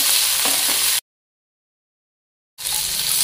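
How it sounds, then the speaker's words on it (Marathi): Square-cut tomatoes sizzle and crackle in hot oil in a kadai for paneer, a bright frying hiss broken by a full silent gap before the sizzling resumes. "हे टोमॅटो तेलावरती परतून घेऊयात।"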